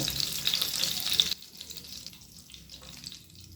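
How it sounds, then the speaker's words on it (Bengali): Whole garam masala fries in ghee over a medium flame, giving a bright hissing sizzle that cuts off abruptly partway through, followed by a quieter, subdued crackle with no talking. "গোটা গরম মশলাটা মিডিয়াম ফ্লেমে 10 থেকে 15 সেকেন্ড ভেজে নেব"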